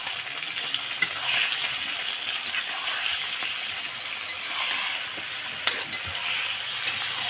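Whole spices sizzle steadily in a pan for a village-style curry of free-range desi chicken, with a continuous hissing fry and no speech.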